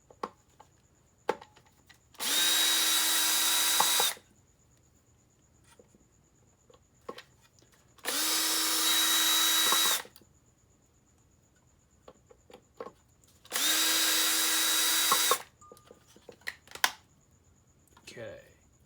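A power driver backs soft screws out of an i-MiEV motor control unit in three separate loud whirring bursts, each about two seconds long. The bursts are split by quiet pauses filled with light clicks and handling.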